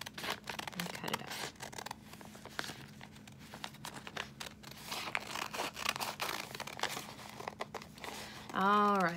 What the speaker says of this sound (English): now it's time to cut this out. So I'm going to get my scissors